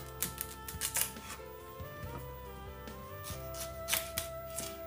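A knife cuts through both ends of an unripe plantain in a home kitchen, producing several short, close, crisp chopping thuds over a steady background hum.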